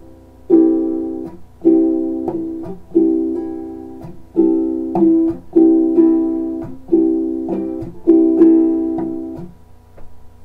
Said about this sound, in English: Down, click, up, slap, click, and up.